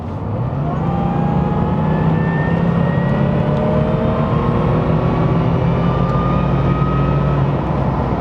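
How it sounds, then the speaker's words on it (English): An Aston Martin car engine revs hard at full throttle, a loud, sustained roar with rising harmonic whine that holds steady and fills the whole stretch. "It's one of the most unearthly sounds I've ever heard from a car."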